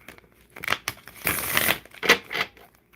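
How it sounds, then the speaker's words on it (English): Tarot cards shuffled by hand in a series of papery riffling and crinkling bursts, loudest through the middle, close and alone with no talk. "you can watch me in the crystal ball shuffle my cards"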